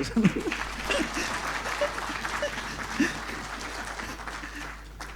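An audience applauding a sales team in a corporate meeting room, a soft, steady wash of many hands clapping at a distance, with faint voices and brief murmurs underneath.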